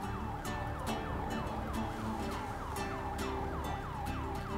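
A police car siren wails in a video game roleplay, its rising and falling electronic whoop repeating steadily and fairly faint, with no talk over it.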